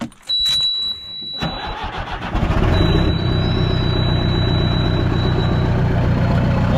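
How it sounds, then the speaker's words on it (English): A backhoe engine cranks with a short whirring starter, stumbles, then catches and settles into a loud, steady diesel idle that continues to the end. "So we're going to go change real quick and jump on the backhoe. Hopefully she cranks up."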